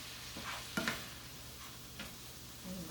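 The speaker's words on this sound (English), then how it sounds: "going to go ahead and add our drained and rinsed can of black beans" Drained, rinsed canned black beans are tipped into a pan of sautéing vegetables, with a few soft thuds and stirring scrapes over a quiet, steady sizzle.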